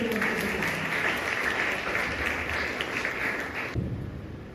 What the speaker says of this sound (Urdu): آئیں زوردار تالیاں بجائیں